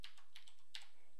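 Fingers tap quickly on a computer keyboard, a short run of soft, close key clicks in an irregular rhythm, quiet and without talk.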